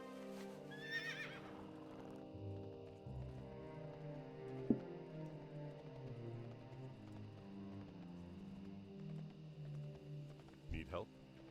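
A horse in World of Warcraft neighs briefly near the start over a low ambient hum, followed by quiet background noise and a short snort at the end.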